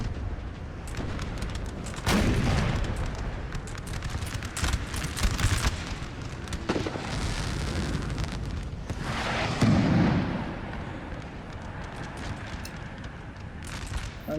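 Musket volleys and artillery fire on a Napoleonic battlefield in a strategy game, dense overlapping crackling shots and booms in bursts that rise and fall, continuous and loud.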